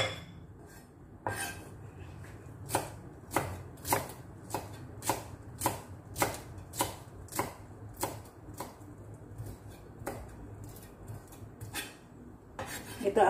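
A knife chops onion into small pieces on a cutting board while making an Indian spinach lentil dal, giving a steady run of sharp, evenly spaced taps, fairly close and clear with no talking.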